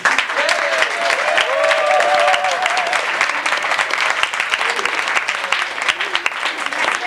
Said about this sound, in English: You can applaud, ladies and gentlemen.